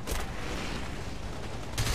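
Aircraft gunfire in the combat flight game War Thunder comes as a dense, loud burst of rapid shots. A fresh blast hits near the end of the short stretch.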